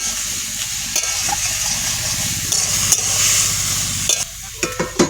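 Homegrown garden broccoli is stirred and frying in a pan, with a steady loud sizzle, scraping stirs and a few sharp clacks of the utensil against the pan.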